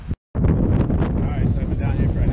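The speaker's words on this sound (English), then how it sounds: "it is getting pretty windy out here." Strong wind from Tropical Storm Eta buffets the microphone in a dense, roaring rush that continues without a break after a brief dropout near the start.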